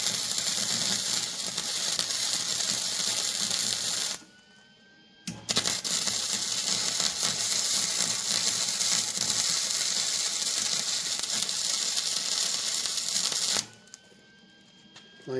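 Tack welding on a metal boom lift attachment gives a loud, steady, harsh crackling hiss that runs for several seconds, drops out briefly, then resumes and stops again near the end.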